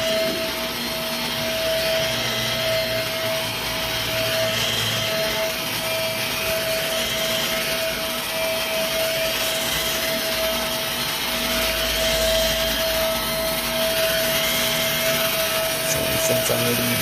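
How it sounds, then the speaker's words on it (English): A vacuum cleaner working over commercial carpet, its motor a loud continuous whine with a steady tonal hum and rough scrubbing noise throughout, close and unbroken with no talk. "I'll come back and do my next line of vacuuming."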